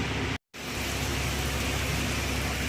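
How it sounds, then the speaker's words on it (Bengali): Light rain falls as a steady, even hiss that breaks off briefly near the start and then carries on unbroken. "মেঘ করছে বৃষ্টি হচ্ছে একটু একটু বৃষ্টি হচ্ছে অল্প অল্প বৃষ্টি হচ্ছে"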